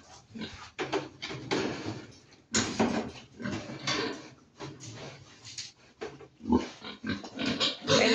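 Piglets being let loose squeal and grunt in bursts, close and irregular, mixed with clattering and shuffling of livestock in a pen.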